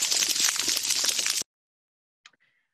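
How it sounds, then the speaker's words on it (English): Dense crackling of thousands of snapping shrimp clicking their claws on a reef, a loud continuous hiss of tiny clicks that cuts off abruptly, followed by silence and one faint isolated click. "thousands of these shrimp clicking their claws, and they create this background crackle"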